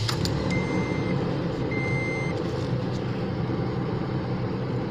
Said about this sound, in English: So obviously it's informing me my doors are open,